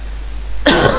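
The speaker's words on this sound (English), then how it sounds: "Sorry I keep coughing." A single sharp, close cough from a person bursts out abruptly after a moment of quiet low hum.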